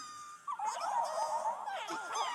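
Small cartoonish puppy in Honkai Star Rail, a close, faint whining whimper that rises and wavers for about two seconds, clear over a quiet background.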